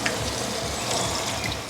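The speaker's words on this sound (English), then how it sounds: "And I'll add the extra bit of water" Water pours into a pot of smoked beef stew cooking on a Kamado Joe Classic 2 grill, a steady close-up gushing and splashing that runs unbroken throughout, with no talk.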